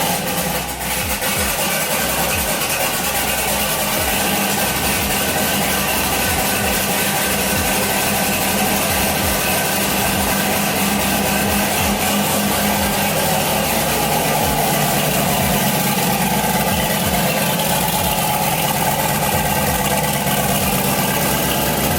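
Turbocharged LS V8 swapped into a BMW E46 fires up and idles loudly and roughly, a close, continuous lumpy rumble that never lets up.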